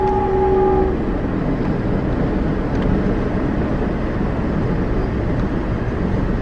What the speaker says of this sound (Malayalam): ഗുഡ്സ് ട്രെയിനാണ് തോന്നുന്നത്.